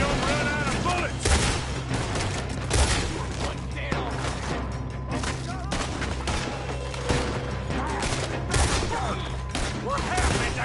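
Dense, sustained gunfire fills a video game shootout during a robbery getaway, sharp shots and bursts crowding together over a busy background, with a voice talking over the barrage.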